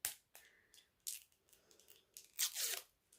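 The seal on Avon Coral Caress lipstick packaging is torn open, a few quick close tearing and crinkling bursts of paper or plastic, quiet and alone.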